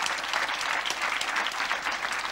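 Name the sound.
audience applause for Benoît Peeters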